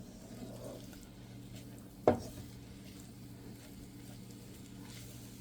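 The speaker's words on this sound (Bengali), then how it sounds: "ডালটা কষিয়ে নিচ্ছি।" Chickpea dal with vegetables is sautéed in a pan, a faint steady sizzle with one sharp scrape or clink of the utensil against the pan partway through.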